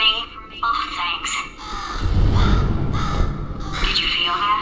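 A bird caws in the video game Portal 2, several harsh calls mixed in with game voices speaking over a rumbling background.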